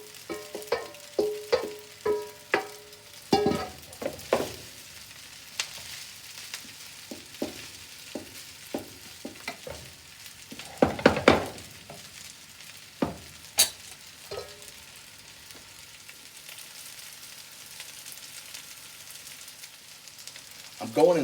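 Fried rice stir-fried with sesame oil in a pan gives a close, steady sizzle broken by repeated sharp scrapes and clatters of the spatula, one busier burst of tossing in the middle.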